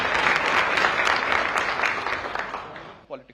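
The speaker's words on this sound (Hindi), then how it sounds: "आप दोनों का बहुत बहुत स्वागत है," Studio audience applause welcoming two guests on a Delhi air-pollution discussion panel, a loud dense burst of clapping that fills the stretch, then cuts off into a brief voice at the end.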